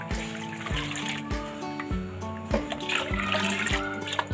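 Water is poured into a besan and yogurt mixture in a pot on a stove, making a continuous trickling, splashing pour with soft bursts, close and fairly quiet.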